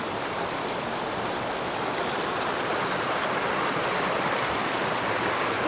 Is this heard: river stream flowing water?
yes